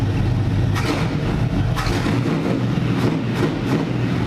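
A NASCAR engine fitted with a 23-year-old ignition system and coil runs loud and close, its throttle blipped lightly so the engine note rises in several quick surges over a steady idle.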